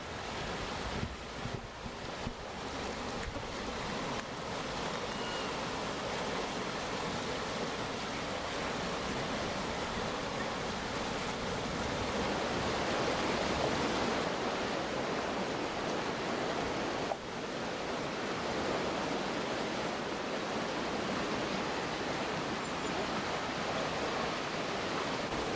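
The Seine river flows with a steady broadband rushing wash, continuous and fairly even, mixed with wind buffeting the microphone, no voices.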